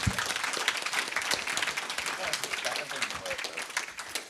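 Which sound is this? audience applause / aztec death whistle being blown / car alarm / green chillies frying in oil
audience applause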